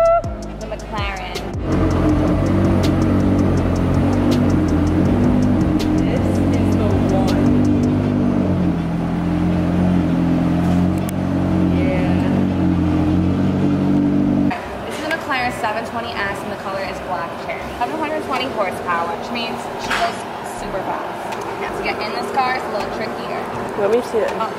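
A McLaren sports car engine revving in a garage, a loud, close, steady rumbling roar that runs for about twelve seconds before dropping to a lower idle, with people talking over it.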